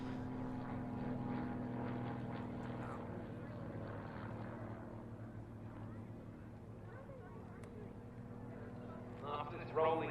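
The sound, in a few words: Grob Tutor aircraft flying aerobatics, hesitation stall turn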